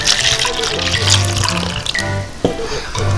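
Soapy water pours and splashes into a container during a polymer science experiment at home. The liquid trickles and gurgles loudly and close by, with a sharp knock partway through and children's voices chattering underneath.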